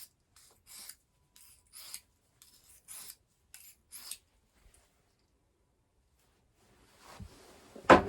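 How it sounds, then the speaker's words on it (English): A knife blade is drawn across a wet whetstone in a series of short, rhythmic scraping strokes, close and clear, ending in a louder rasp. "When you do it the old-fashioned way with one of these wet rocks right here"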